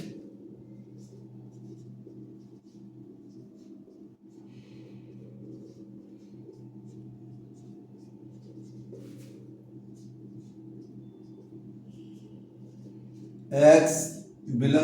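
Steady pen-on-paper writing as a maths set exercise solution is worked out by hand, a soft continuous scratching that runs for many seconds beneath a faint hum, with a brief burst of speech near the end.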